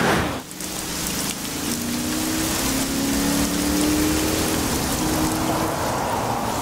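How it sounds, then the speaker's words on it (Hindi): Heavy rain pours down in a steady, dense hiss with no let-up, with a low engine hum underneath and no voices. "एक तो आज बारिश भी बहुत तेज है"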